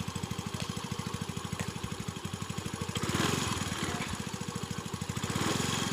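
A scooter engine runs close by with a fast, even putter that swells a little as the throttle is opened, loud and steady for the whole stretch with no talk over it.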